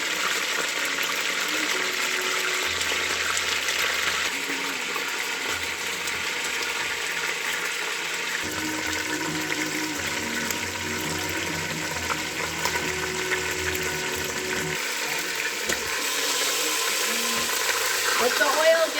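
Seasoned beef browning in olive oil on an Instant Pot saute setting gives a steady, moderate sizzle and crackle that runs on without a break, close by and even in level.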